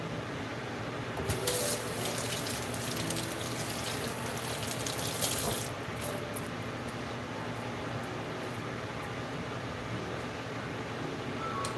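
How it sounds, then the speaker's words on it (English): Water running from a kitchen tap into a canning pot for home-canned meat, a steady rushing pour at close range that swells briefly, with no talk. "I'm going to add water to this."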